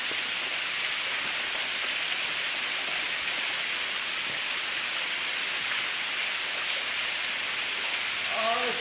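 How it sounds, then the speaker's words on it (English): The waterfall at Millard Canyon Falls gives a steady, loud, close rushing roar of falling water. It holds unbroken the whole time and no one talks over it. "That waterfall's calling my name."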